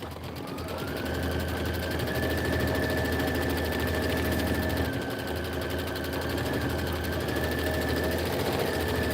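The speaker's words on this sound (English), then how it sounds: "I'm going to go ahead and do my quilting stitch" A sewing machine runs a quilting stitch on fused appliqué pieces, giving a steady, fast mechanical whirr with a sustained motor hum that holds for several seconds at close range, with a brief dip midway and no talk.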